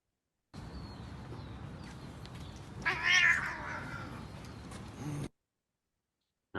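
A single loud cat meow, a drawn-out caterwauling cry rising in the middle of a steady background hiss, heard once and alone without talk.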